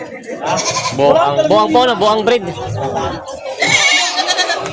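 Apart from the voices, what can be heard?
goat bleating, Boer Anglo breed, at market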